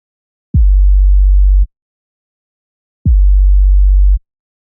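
Heavily distorted synthesized kick drum for a trap-metal track, two long booming low hits about 2.5 seconds apart, each with a sharp attack and sustained buzzing body, loud and alone.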